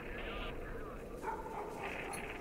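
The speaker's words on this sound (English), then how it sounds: "Oh no, the dogs." Dogs bark and yip in the survival horror game Silent Hill: Homecoming. The sound is a short, dense burst of rough, snarling noise that continues for the whole moment over a busy, murky game soundscape.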